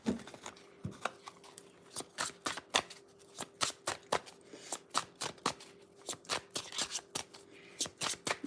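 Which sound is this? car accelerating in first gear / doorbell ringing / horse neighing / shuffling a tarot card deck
shuffling a tarot card deck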